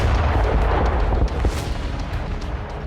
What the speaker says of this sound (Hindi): रूस ने यूक्रेनी फौज के एक फील्ड कैंप को उड़ाने के लिए एयरक्राफ्ट मिसाइल से हमला किया